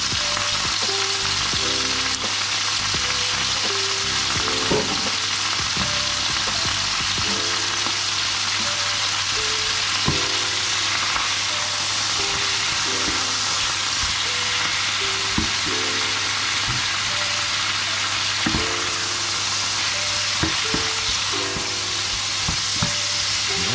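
Food fries loudly and continuously in a pan, a dense close sizzle with repeated stirring and scraping throughout and occasional clinks of metal, with no one speaking over it.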